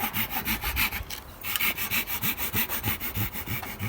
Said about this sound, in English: I know it sounds like you're sawing a house